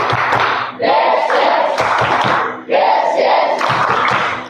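Seminar audience clapping a rhythmic clap chant in bursts, voices shouting along between short pauses, loud and close.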